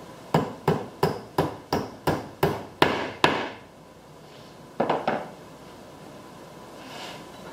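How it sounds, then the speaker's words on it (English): Sharp hammer blows drive a big finish nail down through a wooden chopstick, eight evenly spaced strikes in quick succession, a pause, then a brief cluster of lighter taps, loud and close with no talking. "you can just take your big finish nail, nail it right down through your chopstick"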